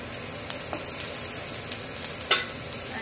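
Spices or chopped vegetables roasting in a pan in a home kitchen, a steady soft sizzle with a few faint clinks of a stirring spoon, no voices.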